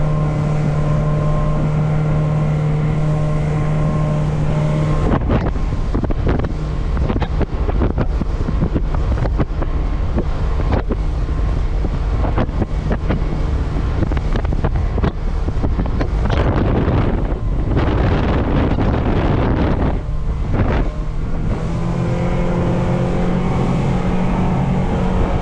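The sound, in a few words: Alumacraft FSX 185 boat with Honda BF 150 outboard running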